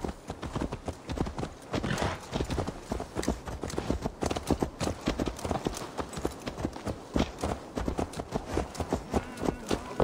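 Horse hooves in Assassin's Creed Valhalla clip-clop steadily at a brisk, rhythmic gait, close and clear, with faint background sounds.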